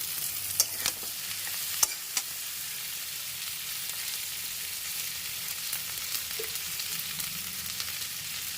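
Okra (bhindi) frying with already-fried onions in a pan, a steady bright sizzle throughout with a few sharp clicks of a spatula stirring near the start.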